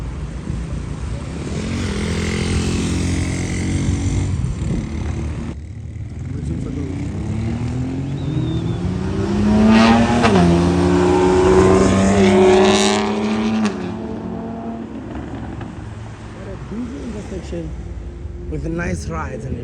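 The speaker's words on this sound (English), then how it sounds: "intersection is very busy." Busy intersection traffic with engines revving and vehicles passing close by, swelling louder then fading, while people talk over the steady road noise.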